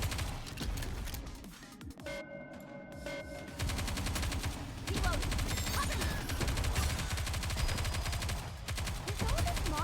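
Sustained gunfire from the video game Nikke, dense rapid shots layered with game effects and music that continue throughout, loud and busy with no let-up.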